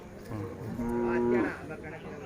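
A single low, drawn-out moo from Hallikar cattle rises out of faint background noise at a village cattle fair, fairly close.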